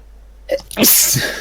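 A single sharp sneeze bursts out after a brief quiet intake of breath, loud and close.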